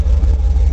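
A car engine rumbles low and steady in a deep, close drone with a slight pulsing burble, revving gently after a new set of spark plugs.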